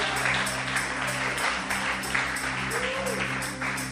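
Congregation clapping during an evangelical church worship service, a continuous rippling applause under a steady musical drone and hum, with faint background voices mixed in.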